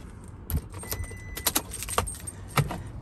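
Keys of a 2018 Toyota Hilux 2WD Workmate ute jangle close by in several short metallic bursts over about three seconds, with faint background noise and no talking.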